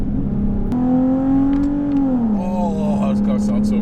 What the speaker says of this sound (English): oh, this car sounds so good.